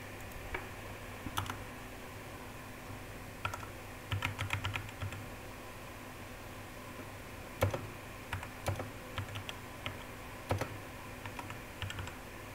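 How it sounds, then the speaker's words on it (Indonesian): Code being typed on a computer keyboard, with scattered bursts of quiet key clicks and taps, close and faint over a low steady hum, with no talking. "Kita ketik dulu scriptnya."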